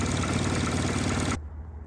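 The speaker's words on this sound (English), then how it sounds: "The engine's still running rough." A car engine runs rough up close, a loud continuous uneven drone with a low pulsing that cuts abruptly to a quieter low rumble after about a second and a half.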